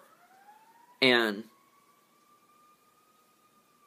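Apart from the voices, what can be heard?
siren outside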